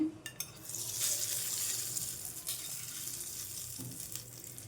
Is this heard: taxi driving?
no